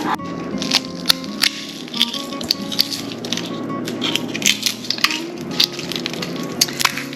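Freeze-dried peppers crunch and rattle in sharp, irregular bursts, close and fairly loud, with dry crackling snaps scattered through the steady handling noise.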